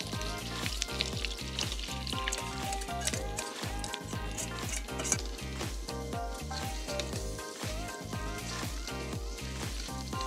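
Garlic and basil herb butter sizzles in a pan, a steady close crackle with light taps and stirring clicks over a rhythmic background beat, and no talk.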